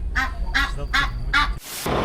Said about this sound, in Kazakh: Андай қаз.